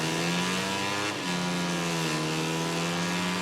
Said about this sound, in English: So here's Stone revving up at the start then.